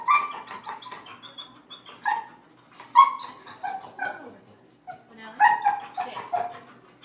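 A small female dog in a training session gives short yips and barks mixed with whimpers, in uneven bursts close to the microphone, with brief pauses between and no talking.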